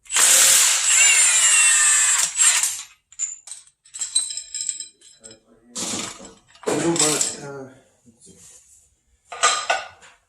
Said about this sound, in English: you're going to need a strong impact, or else you're just going to be spinning over the motor